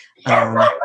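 A dog barks in a single loud, close, harmonic yelp lasting about half a second, breaking in over a quiet conversation.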